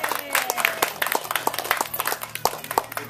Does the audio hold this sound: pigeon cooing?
no